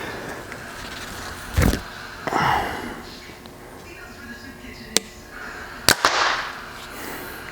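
An arrow loosed from a Hoyt Axius Alpha compound bow at a range gives a sharp snap and thud near the start, followed later by two quick cracks, likely the bow firing and the arrow striking the target, with faint ambient noise between.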